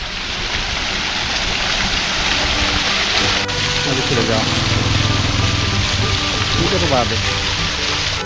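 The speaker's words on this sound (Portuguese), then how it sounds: "Aqui, pessoal, temos uma cascata." A small cascade in a town square in Derrubadas, Rio Grande do Sul, gives off a steady, close rush of falling water, with people talking over it throughout.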